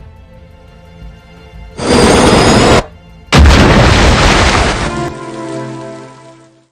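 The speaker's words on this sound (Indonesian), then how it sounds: "sutradara pun berinisiatif memberikan efek hujan agar suasana lebih dramatis" Heavy artificial rain in a Japanese film scene pours as two loud bursts of dense hiss separated by a brief gap, then tapers off to a fading wash against a low tonal background.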